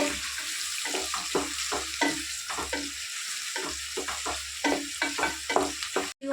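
Fish pieces for a seacoast-style fish curry frying in a pan, with steady close sizzling and repeated scraping stir strokes in an even rhythm, no voices.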